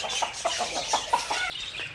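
Aseel chicken chicks cluck in short, rapid chirping calls at feeding time, a close run of bright peeps repeating every fraction of a second.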